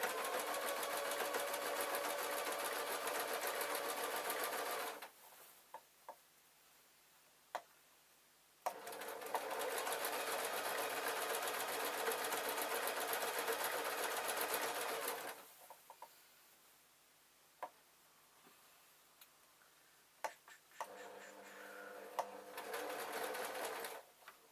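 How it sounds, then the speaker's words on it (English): A sewing machine runs a straight stitch along trouser lining, a loud, fast, even whirr in three long runs broken by quiet pauses filled with a few small clicks and handling sounds. "I've just put it under the machine, and a nice straight stitch"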